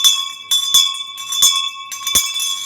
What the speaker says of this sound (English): And that's how she would ring it. Helen, Helen, ring your bell